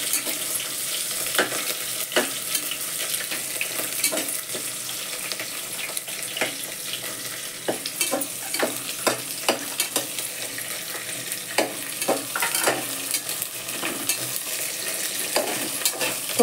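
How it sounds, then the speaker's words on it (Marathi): Vegetables including ivy gourd, onion, ginger, garlic and bay leaf sauté in a pan with a steady soft sizzle, punctuated by frequent sharp taps and scrapes of a stirring spoon. "एक एक करून या भाज्या सगळ्या परतून घेते मी"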